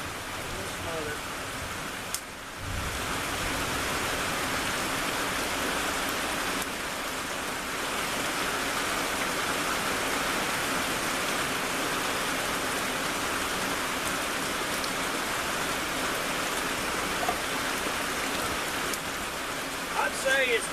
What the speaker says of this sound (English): I gotta talk louder with the rain.